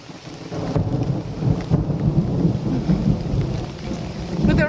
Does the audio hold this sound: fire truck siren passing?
no